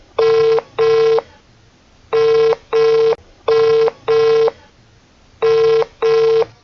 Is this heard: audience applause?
no